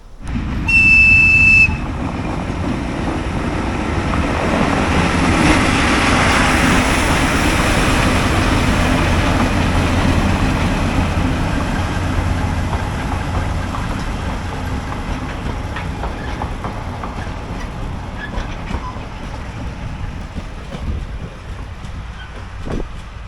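A train whistle sounds briefly, then a heavy train rumbles past in Kazakhstan for a long stretch, loud at first and slowly fading into the distance.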